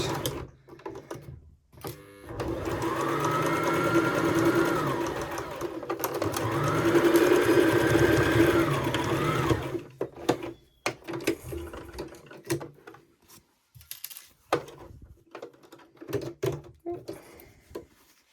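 Sewing machine stitching a half-inch seam on a beginner's tiered maxi skirt, with a short back stitch: two sustained runs of steady motor whir a few seconds apart, then scattered handling clicks and fabric rustle.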